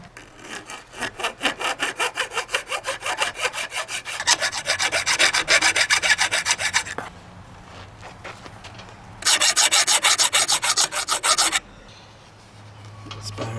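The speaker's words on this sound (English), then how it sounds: "I just take a little file actually quickly and clean up these veins" A hand file deburrs the impeller vanes of a 1996 Sea-Doo GTI jet pump in loud, rhythmic rasping strokes, with a quick run of rapid strokes, a pause, and another fast burst.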